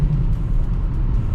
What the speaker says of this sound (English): the muffler delete sounds great